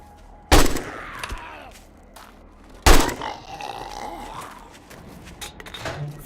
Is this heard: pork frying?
no